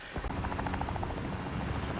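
A helicopter in the Warzone video game thrums with a fast, steady rotor chop, loud and close throughout with no talk over it.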